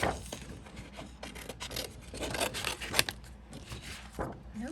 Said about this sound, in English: I'm gonna trim a penguin from the top edge here in this pattern. So let's cut the penguin out first.